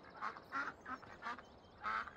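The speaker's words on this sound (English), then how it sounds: "Ducks, they're going around in a circle, yes." Ducks quack in the video game Farming Simulator 17, five short nasal calls in an irregular rhythm, fairly quiet and heard without speech.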